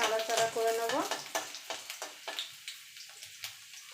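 Chopped garlic hits hot oil in a pan with dried chillies, followed by a run of sharp, separate stirring scrapes and light sizzling that thin out and grow quieter toward the end.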